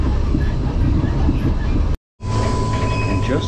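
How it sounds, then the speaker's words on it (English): Loud rumbling of a train arriving at Tamworth station, New South Wales, with a brief silent break, then continued rolling rumble with a steady high whine like brakes squealing. "the train's arriving right on time"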